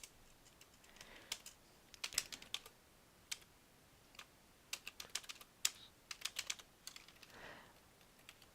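Keys clack on a computer keyboard in irregular bursts of quick taps separated by short pauses, close and fairly quiet, with no talking.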